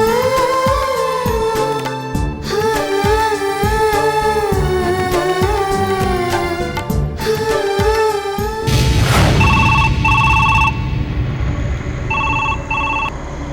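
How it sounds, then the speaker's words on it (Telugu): An electronic telephone ringer at a home in a Telugu TV serial sounds in short repeated bursts after loud background music fades, fairly close, with no talk. "ఏంటి నాయుడు గారు ఇలా ఫోన్ చేశారు?"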